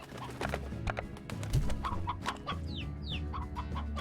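Chickens in the video game Slime Rancher cluck and squawk in short repeated bursts, with a couple of rising squeaky calls, over a low humming music-like background.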